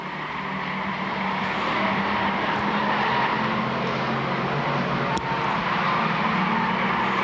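Bomber stock cars racing at Lakeport Speedway, heard as a dense, steady roar of engines from a distance with a brief sharp click partway through and no commentary in the clip.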